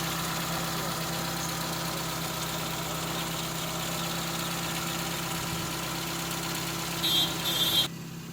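A 2001 Maruti Suzuki Zen LX LPG car engine idles with a steady low rumble and faint knocking, running evenly before cutting off abruptly near the end.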